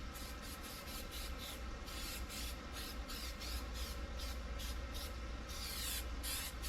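Light coats of adhesion promoter are sprayed onto an old door panel, a faint steady aerosol hiss broken into a quick series of short even bursts, close by with no talking.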